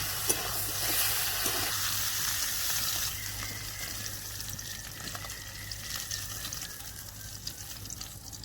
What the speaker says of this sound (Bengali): ফুলকপি আলুটা যতক্ষণ না এরকম লাল করে ভাজা হয় ততক্ষণ পর্যন্ত ভাজবে